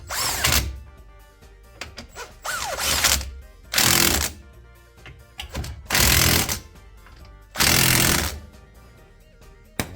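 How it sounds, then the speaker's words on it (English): An impact wrench tightens the wheel hub bolts on a 2014 Chevy Impala during a front wheel bearing hub repair, firing in several loud, close hammering bursts of one to two seconds each, separated by brief pauses. "Then I'm going to use my impact again, once I make sure it's all lined up, to tighten these."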